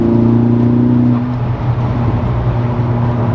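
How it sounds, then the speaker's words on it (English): A tuned Stage 2+ 367hp MK6 Golf R engine revs hard and close, its steady droning note rising and then easing off, with a throaty intake rush. "You get some lovely intake noises from"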